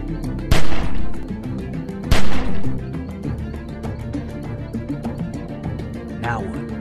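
Gunfire in The Walking Dead Season 1 PC game: two loud, sharp shots near the start, each with a short ringing decay, over steady game ambience and a constant hum, with a fainter burst near the end.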